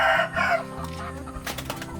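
Chickens cluck and a rooster crows close by in a backyard flock kept at a rubber plantation, with short overlapping calls and clucks over a quiet outdoor background.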